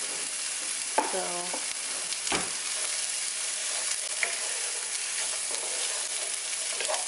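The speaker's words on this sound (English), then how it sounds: "It's a little color in the onion to saute the onion." Onions being stirred and sautéed in a pan for a creamy veggie pasta, a steady close sizzle throughout with a few soft scrapes and knocks, and a brief voice near the start.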